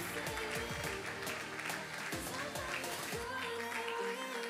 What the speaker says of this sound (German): Jetzt bin ich gespannt, wer lauter jubelt, du oder die Mama.